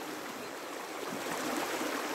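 A small river about ten metres wide flows in a faint, steady broadband rush of water, even and continuous, with no voices.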